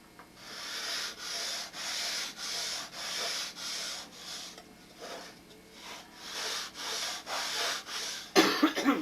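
A rudder is rubbed back and forth over a belt-sander belt glued to glass. The strokes come as a steady run of about a dozen rasping passes, close and fairly quiet, with a brief cough or throat-clearing at the end.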